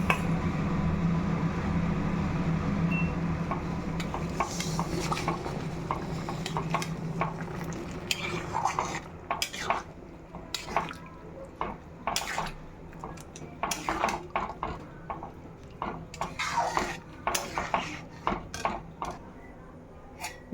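Water from boiled peas, plus a little water used to rinse the spices, going into a pan of Bengali ghugni, with scraping, clinking and stirring of utensils against the pan throughout, close and fairly loud.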